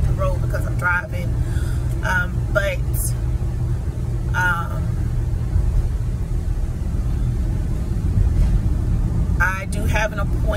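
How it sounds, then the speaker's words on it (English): Steady low engine rumble and road noise from inside a U-Haul truck being driven, constant throughout, with a person talking over it at times. "I'm looking at the road because I'm driving."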